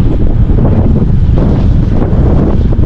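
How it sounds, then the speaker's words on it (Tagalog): Strong gusting wind roaring into a microphone while cycling along a coastal highway on Taiwan's west coast, a loud, constant low rumble and buffeting with no speech. "Lakas ng hangin"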